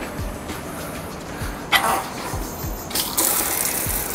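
Water from an outdoor beach shower by the Mediterranean gushes and splashes in uneven bursts, growing louder toward the end, with some low thumps beneath.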